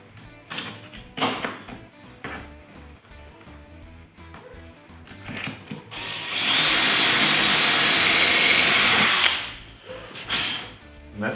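A power drill bores into a simple cabinet, a steady loud whine of about three seconds following scattered knocks and handling sounds from slotting the piece in place.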